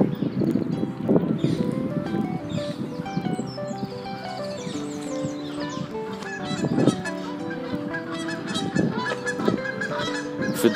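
Geese honk loudly and continuously outdoors, overlapping harsh calls from several birds in an uneven chorus, close and dense throughout.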